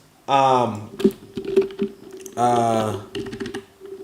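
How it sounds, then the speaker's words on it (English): Rapid clicking of computer keyboard keys, close and fairly loud, broken up by two longer voiced, humming bursts. "I'm just typing in, what was it called?"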